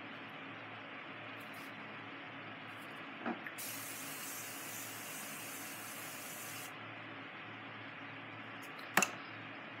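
Morphe Continuous Setting Spray misted onto a face gives a steady, close hiss lasting about three seconds, with a faint click at the start and another near the end. No one speaks.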